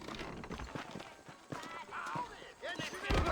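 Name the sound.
horse approaching, Red Dead Redemption video game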